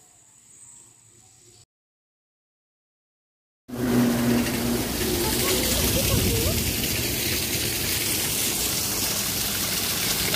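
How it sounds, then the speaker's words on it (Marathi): Roadside waterfall beside the NH-66 Mumbai–Goa highway, a steady loud broadband rush of falling water that bursts in after a brief silence and continues unbroken for several seconds, with no talk over it. "मित्रांनो यो रस्त्याला लागून धबधबा आहे."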